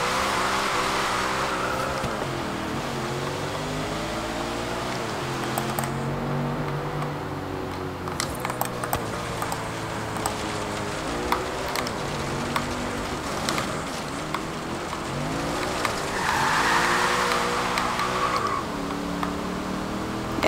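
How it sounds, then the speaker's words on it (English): A Lexus LFA sports car in the Forza Horizon 4 racing game speeds down a motorway, its engine revving high and dropping through repeated gear shifts, loud and constant throughout with no speech. "We'll take the LFA straight down the motorway, I think. So we can hear the noise."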